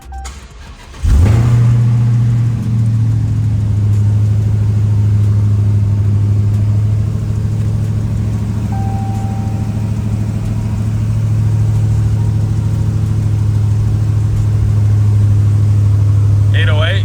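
A Dodge Demon-swapped car cranks and fires up after a brief quiet start, then settles into a loud, steady close-up engine rumble with light revving throughout.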